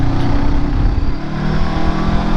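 A new motorcycle's engine while riding, a close continuous engine drone with slight shifts in pitch as the throttle varies, mixed with wind and road noise.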